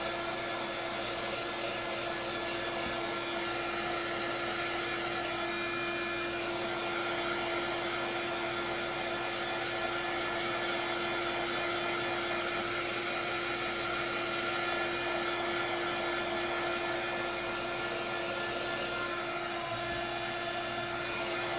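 A heat tool blows steadily to dry transfer paste on a pumpkin, a continuous loud whirring hiss with a fixed whine that holds unbroken from start to finish, with no voices over it.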